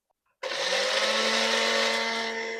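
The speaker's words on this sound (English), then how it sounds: "And now I'm going to grind this." After a brief quiet moment, a blender starts abruptly and grinds chia seeds, dates and cocoa powder with a loud, steady motor whine that holds constant to the end.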